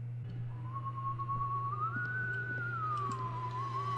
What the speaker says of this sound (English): You know when the janitor whistles?